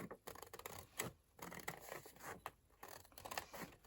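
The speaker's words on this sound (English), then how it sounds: "you can just feel with your scissors around the edge of the card" Scissors snip and scrape in short bursts around the edge of a piece of packaging card, close and quiet with brief pauses between cuts.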